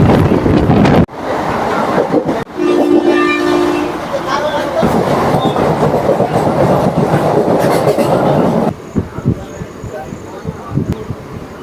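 A Bishnupur–Adra MEMU special train runs on its rails, giving a loud continuous rumble with clickety-clack from the wheels and wind buffeting the microphone; a brief tonal horn-like note sounds early on.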